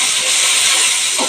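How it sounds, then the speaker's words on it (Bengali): Onion and chilli hit hot oil with a loud, dense, continuous sizzling hiss, close up and unbroken for its short length. "দেবো পেঁয়াজ আর লঙ্কা।"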